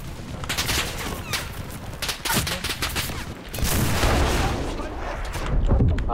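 Heavy gunfire and tank cannon blasts in the World War II shooter game Enlisted, a dense, continuous barrage of loud booms and rattling shots with a faint voice underneath.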